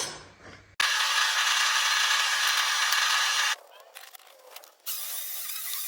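An old file skates across a hardened, quenched Damascus brisket knife blade at about 65 Rockwell, giving a loud steady scraping rasp that runs for several seconds, breaks off briefly, then resumes.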